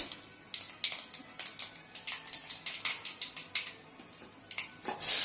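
Crushed garlic tossed into a pan while cooking vazhakkai varuval, raw banana stir-fry, giving a run of close, fairly quiet sharp clicks and sizzling taps in an irregular rhythm, ending in a brighter hiss.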